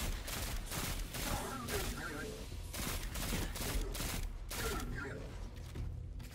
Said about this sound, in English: Test out this grenade launcher first.